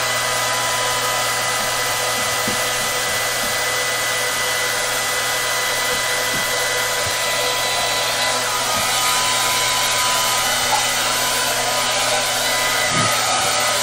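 A hair dryer blows a steady, loud, whooshing hum close by for the whole stretch while a painting on wood canvas is dried, with a few faint knocks and clicks underneath.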